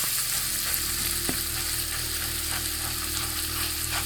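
Food sizzles and fries steadily in an oiled pan reused with its leftover seasoning, a constant crackling hiss with a brief sharper pop, close and alone.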